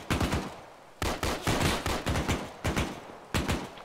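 Rapid bursts of gunfire from a military shooter video game, several close, loud volleys of automatic fire separated by brief pauses, with no voices over them.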